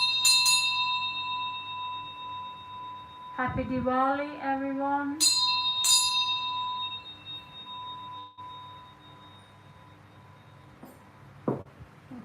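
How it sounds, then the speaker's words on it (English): A hand bell rings out during a Diwali housie number-calling game: a few bright, clear strikes near the start and again midway, each ringing on briefly, with a voice speaking in the gap between them. "Need to ring a bell for that one."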